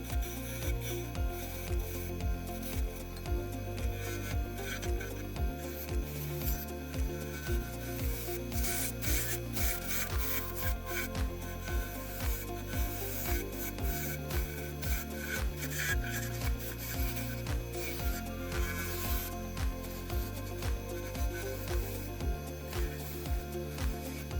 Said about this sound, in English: I sand the entire surface of the snowman's body with an angle grinder.